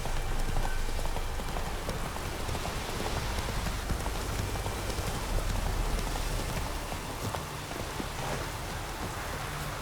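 Steady rain pours across the whole stretch while Roach, the horse in Witcher 3, gallops beneath it, faint hoof clip-clop blending into the dense downpour with no talk.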